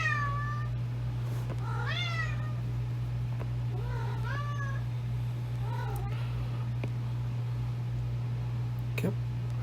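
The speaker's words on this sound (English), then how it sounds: "That's my cat." A house cat meows four times, clear rising and falling calls spaced a couple of seconds apart, over a constant low electrical hum in a quiet room.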